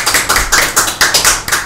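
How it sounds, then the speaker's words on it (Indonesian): A small group clapping hands during a podcast recording, close and loud, with sharp claps landing in a quick uneven rhythm about five times a second. "Tepuk tangan dong."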